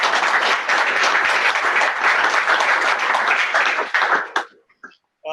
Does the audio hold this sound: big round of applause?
yes